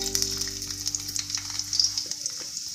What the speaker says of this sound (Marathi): लसूण चांगला परतून घ्यायचा आहे